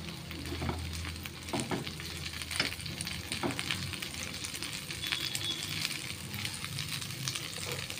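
Pav bhaji vegetables stir-fry in butter in a pan, giving a close steady sizzle broken by spatula scrapes and light clinks of utensil against metal.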